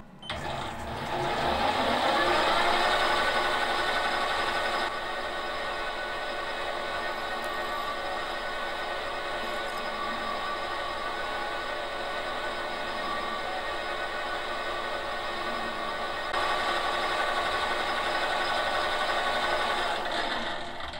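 A metal lathe faces the end of a brass connecting rod with a steady, continuous machining drone and whine that holds at an even level throughout, with no voices.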